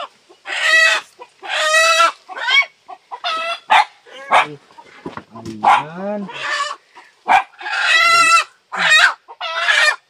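Chickens clucking and squawking loudly up close in repeated bursts, with a rooster-like call among them and a person speaking briefly.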